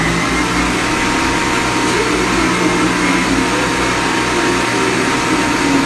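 Electric mixer beating gluten-free chocolate cake batter, a steady close whirring motor hum with no pauses.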